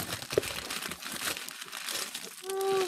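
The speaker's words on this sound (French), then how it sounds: "vous allez entendre plein de bruit de ciseaux, puis Le déballage" Gift wrapping paper crinkles and rustles as a present is unwrapped, with scissors also in use, a dense close crackling that carries on without pause.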